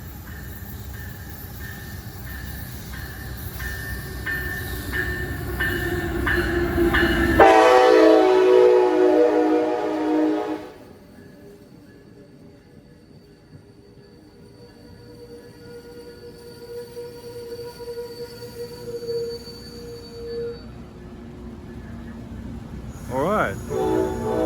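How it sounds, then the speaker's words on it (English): An Amtrak passenger train rolls past near coal trains, its horn sounding in long blasts before a loud rumbling pass that fades out, followed by squealing wheels and a final whistle; someone speaks briefly. "Here comes Amtrak."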